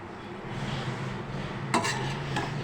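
Kasuri methi being stirred into prawn biryani masala in a pot makes a soft scrape and rub. A brief clatter of the spoon against the metal comes partway through.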